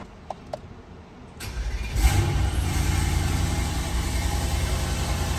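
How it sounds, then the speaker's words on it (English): A Mercedes E63s with a stage 2 tune and decat downpipes cold-starts: a few faint clicks, the starter catches, then the engine flares into a loud bark and settles into a deep, rumbling high idle close by. "That's a cold start."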